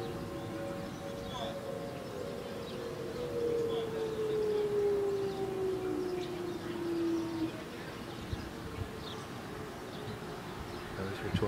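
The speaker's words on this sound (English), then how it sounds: "Those are tornado sirens." Tornado sirens wail in the distance during a storm, one long tone sliding slowly downward over several seconds amid wind, rain and scattered outdoor noise, faint and far off.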